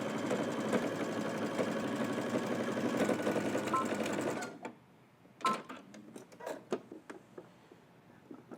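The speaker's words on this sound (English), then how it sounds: "let's head over to the machine. We're gonna stitch all the way across using 5/8 of an inch seam allowance" A home sewing machine runs steadily, sewing a sleeve seam on a Simplicity S3037 garment with a 5/8-inch seam allowance, then stops, leaving a few scattered clicks and handling noises.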